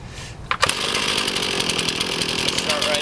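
A chainsaw pulls over and catches, then settles into a loud, steady idle close by, started with its chain brake engaged during a morning saw checkout.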